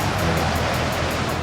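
Huge storm surf from Tropical Storm Faye pounding the Florida coast in gale force winds, a loud, steady broadband roar of crashing waves and wind with no distinct breaks.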